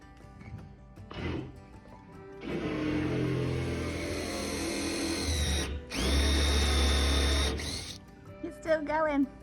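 A power drill with a blunt bit whirs in two sustained bursts while drilling pilot holes for a carport build, close and loud, with a short pause between them and brief handling noises before and after.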